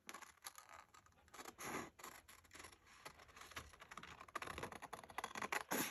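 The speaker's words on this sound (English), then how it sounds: "I'm going to cut the shape out fairly" Scissors cut a shape out of paper for decorated accordion file folder pockets: quiet, close, irregular snips and papery scraping, some in quick bursts and some slower, with no talking.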